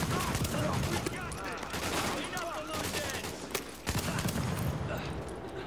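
Gunfire in Tom Clancy's The Division, a dense rattle of rapid shots and bursts running throughout, fairly close, with voices talking over it.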